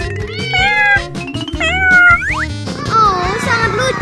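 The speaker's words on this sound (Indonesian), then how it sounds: "Siapa yang kehilangan anak kucing?" A kitten meows repeatedly in high, wavering cries, close and loud, alongside cartoonish music and a voice in the background.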